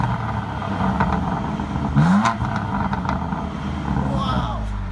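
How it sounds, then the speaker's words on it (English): A BMW F80 M3 with the ZCP Competition Package revs its exhaust, a loud, close engine roar rising and falling with crackling pops, while people talk over it. "All right, here's a little exhaust clip for you."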